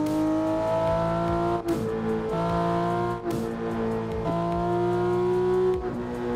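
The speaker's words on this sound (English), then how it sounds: "I'm driving the Porsche 911 GT3." Porsche 911 GT3 in the Assetto Corsa racing game, engine loud and continuous, rising in pitch through each gear and dropping sharply at four quick shifts, with faint tire squeal.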